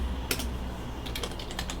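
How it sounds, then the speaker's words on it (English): Typing a password on a computer keyboard during a Linux system setup: a brief burst of key clicks, a pause, then a quicker run of several close, crisp keystrokes over a steady low hum. "Typing the password, and enter."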